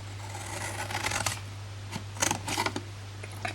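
Scissors cutting through scored card stock to make a hinged flush-lid gift box, giving a few quiet crisp snips in short bursts over a steady low hum.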